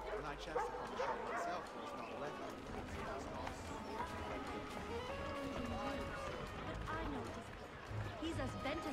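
A dog in the Assassin's Creed III video game barks and yips amid busy game sounds and background music, with someone talking over it.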